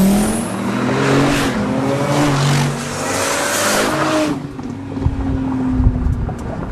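A Lamborghini Murcielago with a 6.2-liter V12 engine accelerating hard during a top-speed run: a loud, rising howl that climbs through gear changes with heavy wind rush, then drops away abruptly to a quieter rumble.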